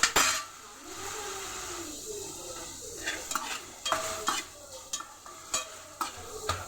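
Tomatoes and green chillies frying in a pan for chutney, a soft steady sizzle broken by repeated sharp clinks and scrapes of a spoon stirring against the pan.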